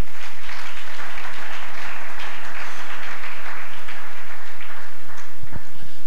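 Congregation in a church applauding the Lord, a loud, steady wash of many hands clapping continuously, close and dense throughout.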